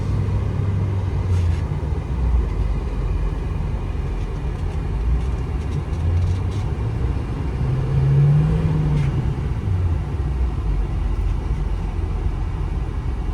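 2008 Ford F250 Lariat 4WD with a Powerstroke diesel engine driving along, giving a steady low engine rumble and road noise throughout with a slight swell midway, no talk.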